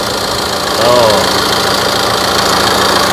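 A Tata Aria 2.2 common rail turbo diesel engine in good condition idles with a steady, gritty clatter and constant mechanical hum, heard close up while a voice briefly exclaims over it.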